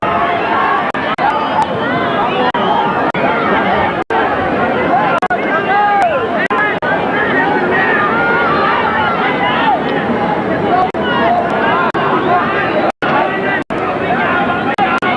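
Busy crowd hubbub of rugby league fans pouring in through the gates at Leichhardt, a dense babble of many voices and movement under louder nearby talk, steady throughout.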